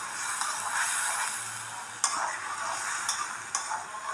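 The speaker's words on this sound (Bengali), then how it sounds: "সবগুলা দিয়ে আমি মশলাটা একটু কষাই নিচ্ছি।" Spice masala sautéed and stirred in a pan while soybean curry is being cooked, a steady close sizzle broken by a few sharp scraping clicks of the spoon, with no voices.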